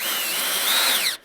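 A cordless power drill set to drill mode whines steadily at high speed for just over a second, close and loud, with the pitch rising slightly before it cuts off.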